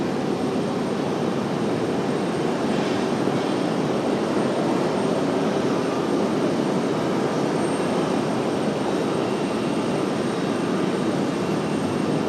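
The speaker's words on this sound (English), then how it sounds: "Delta 508 coming in from Los Angeles, just off to the north of the airport" A Delta airliner arriving from Los Angeles passes just north of RDU airport, a broad, steady jet roar that holds at an even loudness for the whole stretch with no voices over it.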